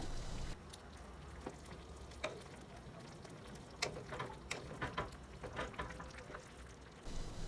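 Potato and egg curry bubbles in a pot on the stove as a spoon stirs it: a steady, soft sizzling hiss broken by scattered scrapes and taps of the spoon, with no talking.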